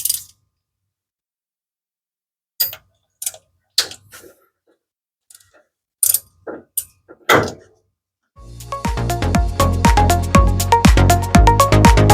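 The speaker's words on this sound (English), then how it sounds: "Let's start removing the spark plugs." Ratchet at work on the spark plugs of a 1966 Mustang engine, close by: scattered single clicks and clunks, then a sustained run of rapid metallic ratcheting clicks.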